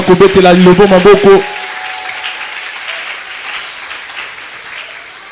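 A church congregation bursts into loud, dense applause for about a second and a half, then it breaks off abruptly and only a faint hiss of the room remains.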